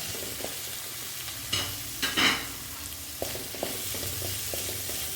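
Long-sliced onion sizzles in hot oil with ginger, garlic and shallots for a chicken masala, a steady close frying hiss broken by a few spoon-stirring scrapes and clinks.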